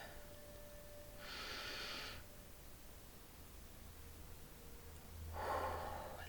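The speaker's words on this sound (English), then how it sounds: "Another deep breath." Two slow, deep breaths, each an audible airy inhale or exhale lasting about a second, are heard close to the microphone over a quiet background with a faint hum and no speech.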